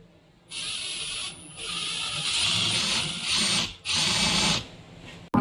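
A power drill driving screws whirs in several bursts of a few seconds each, separated by short pauses, loud and close, with a sharp clunk at the end.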